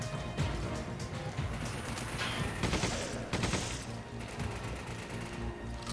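Intense gunfire rattles through a firefight in Resident Evil 5, a sustained volley of overlapping shots with a few sharper bursts standing out, moderately loud over a busy game soundscape.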